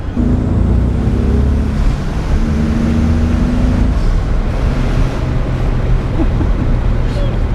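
A turbocharged engine of a 1988 Toyota Supra Mk III drones loudly and steadily while accelerating, its low rumble building with rising whine tones, under wind noise and occasional voices.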